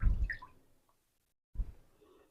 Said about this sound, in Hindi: अब इसको भी एक बार पानी में ऐसे टिप करूंगी